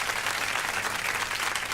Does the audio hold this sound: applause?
yes